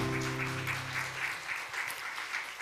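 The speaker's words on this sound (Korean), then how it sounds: "우리 하나님께 영광의 박수 올려드립니다" Steady applause from a church congregation during a worship service, a dense wash of clapping that continues throughout.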